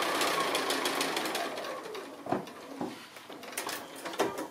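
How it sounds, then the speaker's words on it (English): Domestic sewing machine stitching the final quilting line through a layered patchwork quilt, a steady close mechanical whir with short pauses and bursts as the fabric is guided. "I've been busy quilting and I'm just on the last line of stitching now"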